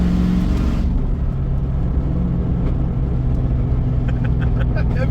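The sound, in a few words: vehicle engine revving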